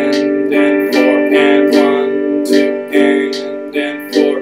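Guitar strummed in a down, down, up, up, down, up pattern, with bright, loud chords repeating in an even rhythm and sharp attacks on each stroke, heard alone.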